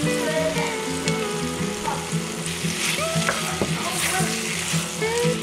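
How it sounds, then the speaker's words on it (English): Green beans tossed into a hot skillet of frying potatoes for a one-pan Southern supper, giving a steady loud sizzle and crackle with stirring scrapes, close up and with no talking. "Now we'll put in the green beans."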